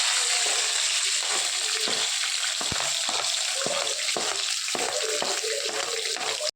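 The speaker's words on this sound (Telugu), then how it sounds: "ఇప్పుడు కరివేపాకు ఎర్రగడ్డలు వేసుకున్నాను. ఆనియన్ వేసాను." Curry leaves and onions hit hot oil in a pan, giving a strong, continuous spluttering sizzle with rhythmic stirring scrapes, cut off abruptly at the end.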